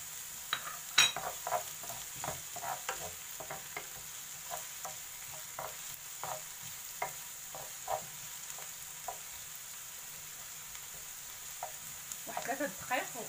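Onion and minced meat fry quietly in oil, a soft steady sizzle broken by repeated light scrapes and clinks of a spoon stirring against the pan, close and alone.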